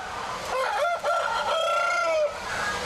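A rooster crows loudly and close on a poultry breeding farm, one long drawn-out call with a break in the middle, over faint background noise.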